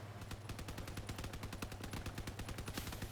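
Rapid, continuous machine gun fire in the vehicle combat game Crossout, multiple guns firing in a steady, fast rhythm, dense and sustained throughout, with no speech over it.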